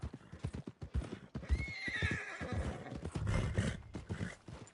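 In Red Dead Redemption 2, a horse near the stables clip-clops along and lets out a loud whinny, hooves steady and close, with a bit of background talk.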